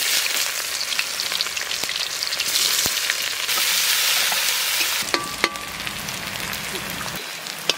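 Onion frying in hot mustard oil with dried red chilies and cumin gives a bright, continuous sizzle with scattered spits and pops, loud and close throughout.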